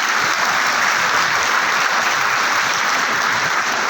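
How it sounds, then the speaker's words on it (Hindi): Dense, continuous applause from a large audience fills a hall at an award ceremony honouring Brahmin achievers, loud and steady throughout with no talking. "जोरदार ताली बजाएं।"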